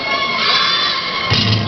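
Basketball arena crowd at a 1992 Long Beach versus West Valley semifinal game reacting loudly to a referee's call, a dense roar of shouting and booing voices that swells again near the end.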